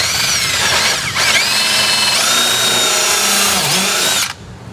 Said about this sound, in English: So right now we're just going to drill our pilot hole.